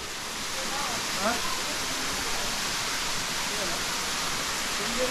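Continuous broadband roar of water falling at Bheemeshwara waterfall, steady and even, heard as a dense wash with no breaks and faint voice traces beneath.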